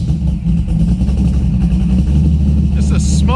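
A cold 440 LS7 V8 with a small camshaft idles nearby, a steady low rumble running throughout while people talk over it.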